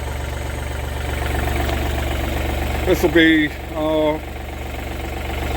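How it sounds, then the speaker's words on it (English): A tractor engine idles steadily to warm up, a constant low rumble that runs throughout, while a person speaks briefly over it near the middle. "It's just ticking over at the moment to warm the engine up, get everything nice and warm."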